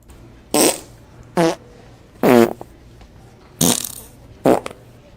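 Five short, loud fart sounds at a steady spacing, each a brief wet burst, dubbed over a woman's otherwise quiet video with no talking.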